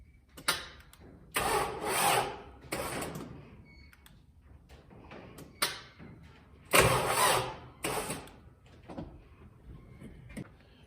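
A Kubota tractor engine with a suspected weak battery cranks in several separate bursts, each a loud, close whirring turnover lasting about a second, with quieter clunks and gaps between attempts.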